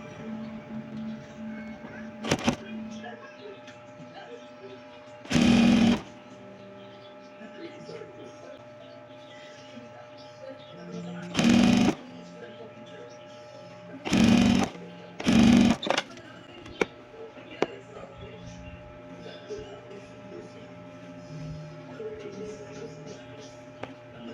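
A sewing machine stitches a 1-inch fold placket in four short, loud, rapid bursts spread across the stretch, with quiet pauses and speech in between.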